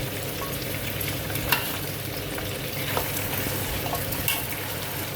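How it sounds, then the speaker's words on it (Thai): Pork hock and pork belly skin fry in hot oil with a dense, steady sizzle and crackle. Occasional faint stirring taps come up close, and there is no talking. "ทอดนะคะให้ หนังหมูเนี่ยหนังคากิกับหนังสันมันเนี่ยเป็นเต็งโดนน้ำมันนะคะ"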